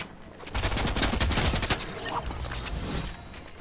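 Repeated heavy gunfire from a video game, with dense bursts of blasts packed through the first half and continuing more loosely to the end, loud and close, like pump shotgun fire amid an intense firefight.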